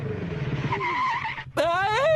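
Motorbikes roar past in an animated scene: whining engine tones rise and fall, break off for a moment, then a second howling pass surges in loud and close.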